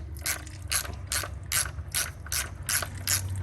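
A hand ratchet backs out small 8mm bolts on a Chevrolet 4T40e transmission with a 2.2 engine, giving repeated bursts of close, crisp clicking in a steady back-and-forth rhythm, with no talk.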